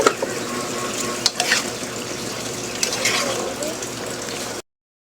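Spicy eggplant sautés in a pan with a splash of fish sauce, giving a continuous loud sizzle broken by occasional stirring scrapes, with no voices; the sound then cuts off abruptly.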